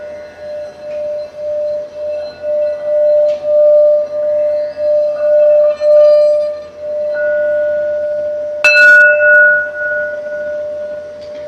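A bell rung to cleanse a space gives a sustained, pulsing metallic ring that swells and fades repeatedly, with a second, brighter strike near the end adding a new clear tone over the loud, close resonance.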